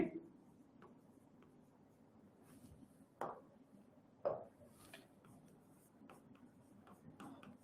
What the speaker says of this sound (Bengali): আমরা এখানে সুন্দর করে লিখি অণুজীব